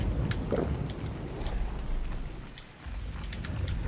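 Rain in the video game ARK: Survival Ascended on the Genesis 1 map, a steady dense patter with a faint low rumble like distant thunder, continuous and moderately loud, with no talking.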